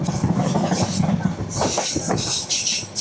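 The Mahanagar Provati train on the Dhaka to Chattogram line rolls into Bhairab railway station with loud, close rumbling, clattering wheels and bright squeals of metal throughout.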